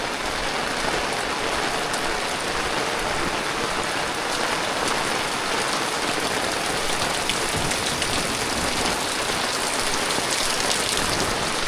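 Steady rain pours down in the Konkan countryside during the monsoon, a dense, even hiss of drops hitting surfaces that stays loud and unbroken throughout, with no voices.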